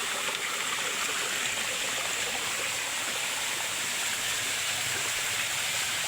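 Waterfall pouring into a Y-shaped creek, a constant broad rushing roar of falling water, steady and fairly close with no pauses throughout.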